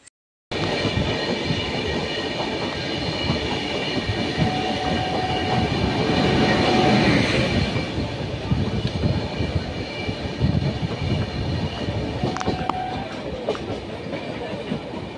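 The 12073 Jan Shatabdi Express pulls out of a station on the Howrah to Bhubaneswar run, loud and close, a continuous rumble with rhythmic wheel clatter and metallic squeals, steady throughout after a sudden start.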